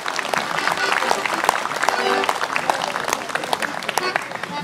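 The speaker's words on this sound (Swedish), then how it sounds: "Ge dem en varm applåd så kanske de vågar börja spela." Audience applause for a folk fiddle group at a summer fiddlers' gathering in Torsås, Sweden: steady, dense clapping from a sizable crowd, fairly near and even throughout, with a few sharper individual claps standing out.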